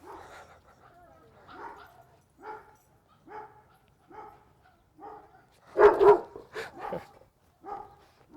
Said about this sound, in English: Here comes some barking.